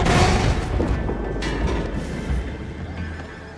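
A heavy boom as a bank is blown open in Saint Denis during a robbery in the Red Dead Redemption video game, loud at first and fading into a rumbling tail.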